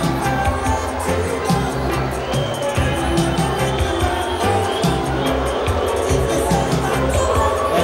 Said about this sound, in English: Some of the crowd are booing Thembalethu Chithani, obviously.